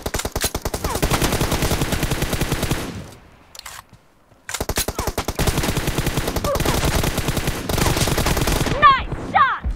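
Rapid automatic gunfire from a 1v1 multiplayer shooter match rattles in long loud bursts, breaks off for a brief pause, then resumes with more sustained fire and a few sharper effects at the end.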